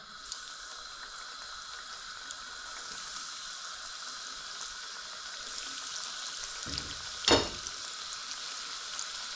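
Catfish fillets sizzle steadily in hot oil, a constant bright crackle with a brief louder clatter near the end.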